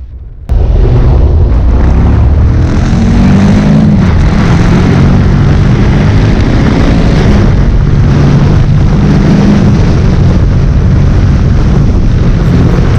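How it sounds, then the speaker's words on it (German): A Moto Guzzi V85 TT motorcycle engine starts up and runs loud and close to the microphone, a deep rumbling throb that holds steady throughout with some wind buffeting. "Der Sound der Guzzi ist natürlich schon richtig geil."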